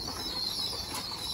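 Pigeons in a loft give off soft wing-flapping and fluttering, a faint, steady rustle with no voices over it.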